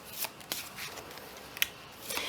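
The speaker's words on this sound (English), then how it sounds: "let's give a little bit of a shuffle to the cards" Soft, faint tarot card shuffling with light papery riffles and a few small taps, quiet and close, with no talking.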